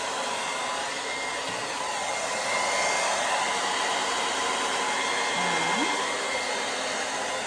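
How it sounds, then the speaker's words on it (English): A hair dryer blows hot air onto hair over a round brush, continuous with a steady high whine and airy roar, getting slightly louder partway through. "I take my blow dryer on top, and I'm adding heat"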